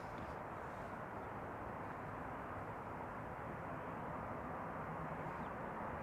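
KLM Boeing 737-800 airplane arriving at Schiphol, a constant broad roar of jet engine noise, steady and fairly distant, with no voices.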